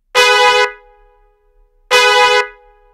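Two loud, blaring car horn honks, each about half a second long, separated by a short quiet gap.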